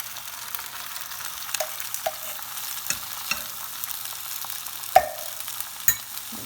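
Canned sauerkraut sautéing with softened onions in a pan, a constant sizzle broken by several sharp scrapes and tossing knocks, no talking.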